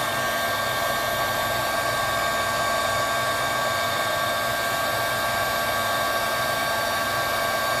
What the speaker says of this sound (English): Heat gun will help to set the color till end, till the edges.